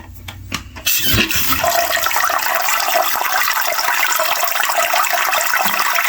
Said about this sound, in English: We'll turn on the water to hot.